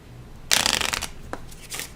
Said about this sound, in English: challenge deck is shuffled